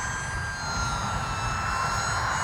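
An e-Flite UMX Cirrus SR22T RC model airplane flies overhead, its small electric motor giving a steady, thin high-pitched whine that holds fairly constant at a moderate distance.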